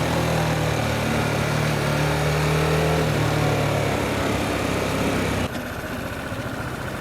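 A Harley-Davidson Sportster S engine runs steadily on a night ride along an expressway, with a continuous low drone and rumble that drops away abruptly near the end, leaving a quieter hum.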